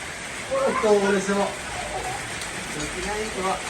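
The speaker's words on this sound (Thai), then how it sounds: "ได้ยินเสียงฝน" Steady rain patters continuously in the background while a voice talks over it.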